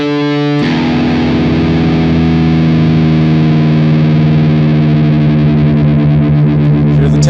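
Electric guitar strings plucked while being tuned from standard E down to drop D, a distorted tone with chorus ringing out in long sustained notes after a sharp attack, loud and alone.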